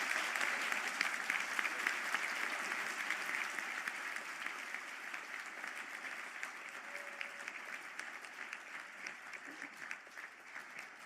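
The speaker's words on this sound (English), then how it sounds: "to stand for a round of applause" Sustained applause from a large audience at a graduation conferring ceremony in Galway, dense steady clapping that gradually thins toward the end, with no clear voices over it.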